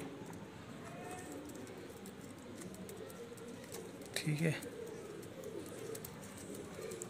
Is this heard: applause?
no